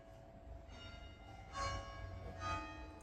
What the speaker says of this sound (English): do you hear the bells? We're right next to the bells of Portugal.